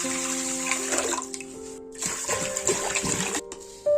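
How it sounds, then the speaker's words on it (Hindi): Water poured into a pot of washed dal and rice for khichdi, a steady close splashing pour lasting a few seconds with light gurgling toward the end. "अब इसमें मैं पानी डाल दूंगी"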